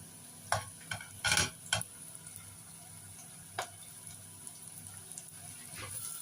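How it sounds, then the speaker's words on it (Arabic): Grated carrot stirred into yellow lentils in a pot at home, a few soft scraping and clinking strokes against the pot in the first two seconds, then quiet stirring over a faint hiss. "نقلبهم مع بعض"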